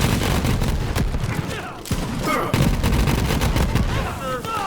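A Flakker shotgun in Borderlands 3 fires round after round, each shot setting off dense bursts of crackling flak explosions that overlap in a loud, rapid barrage, with a voice talking over them.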